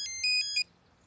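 A telephone rings in three quick electronic trills, clear and fairly loud, then stops into near silence.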